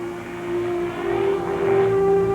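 A steady, loud airplane engine drone with a strong constant hum, heard from inside the aircraft without any voices.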